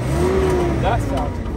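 A 1972 Datsun 240Z with 55k miles idles and runs close by, giving a steady, throaty engine drone.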